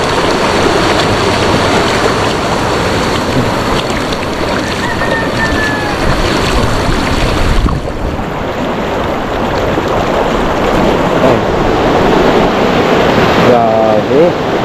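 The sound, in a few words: strong rushing flood water current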